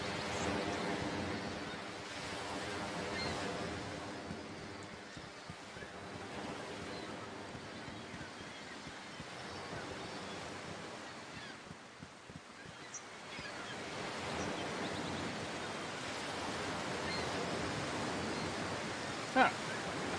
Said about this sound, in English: nice little waterfall there